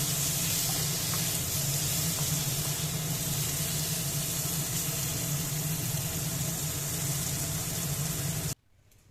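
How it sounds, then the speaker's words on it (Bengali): Two medium potatoes fry in hot oil with five-spice seeds, giving a loud, steady, continuous sizzle that cuts off abruptly just before the end, with no talking. "আলুটাও ভালো করে ভেজে নিতে হবে।"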